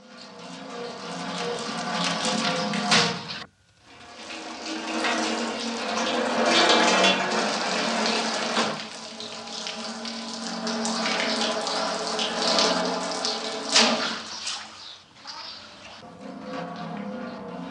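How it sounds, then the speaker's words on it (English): From a 1969 film, rug dye pours into a vat as a continuous, loud, rushing splash of liquid with drum-like resonance, dipping briefly before flowing steadily on. "my real favorite sound, the sound of the dye from the rugs hitting the like vat, and it sounds like a drum"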